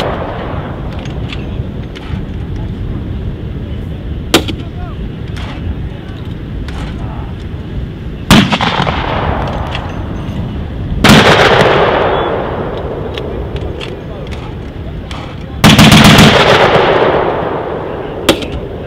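Military mechanized assault exercise with a TOW missile shot: several sharp heavy blasts and bangs punctuate a continuous loud rumble of engines and wind, spaced irregularly across the stretch, with speech faintly present.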